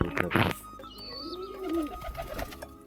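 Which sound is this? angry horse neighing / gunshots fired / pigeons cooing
pigeons cooing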